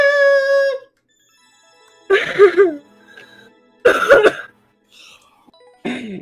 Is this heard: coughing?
yes